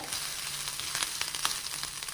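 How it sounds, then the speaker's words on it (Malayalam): Mustard seeds and grated coconut fry in hot oil for a pumpkin erissery, a close, busy sizzle dotted with quick popping crackles. "അതിനെ നമുക്ക് നന്നായിട്ടൊന്ന് വറുത്തെടുക്കണം."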